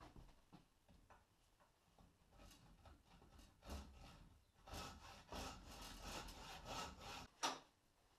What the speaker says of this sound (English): Trick is to run the blade into the gap either side and sever the bolt without cutting the bracket or the suspension unit's eye.